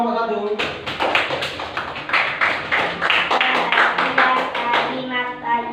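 Classroom students clapping for a presenting group, a brisk run of close hand claps in uneven bursts, with voices mixed in.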